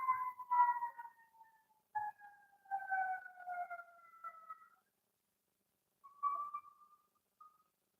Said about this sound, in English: Ambulances, not police cars.